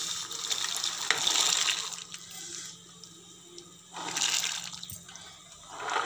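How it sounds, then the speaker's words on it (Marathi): Green peas tipped into a pot of boiling water on a stove, giving watery splashing and bubbling bursts that swell, ease off and return, close by with no talking. "त्या पाण्याला उकळी आलेली आहे तर इथे आपण आता त्यात मटार घालूया"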